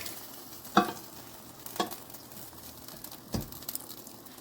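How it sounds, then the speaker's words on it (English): Chickpeas cooking in a pan under a faint sizzle, with three distinct scraping strokes of a spoon stirring them, close and fairly quiet, with no voices. "now we're going to add the rest of our chickpeas into this. Stir."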